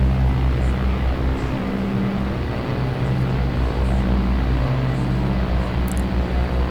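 OV-10A Bronco propeller engines in the DCS flight simulator, taxiing with power added: a loud, steady, continuous drone with a low rumble that holds throughout, no voices.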